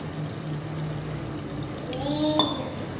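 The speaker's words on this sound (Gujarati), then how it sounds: "આપણે અડધો ગ્લાસ જેટલું પાણી નાખી દઈએ" About half a glass of water is poured into a pan of Gujarati sev tomato curry, giving a steady, close hiss for a few seconds with a faint voice in the background.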